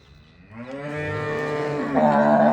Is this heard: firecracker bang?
no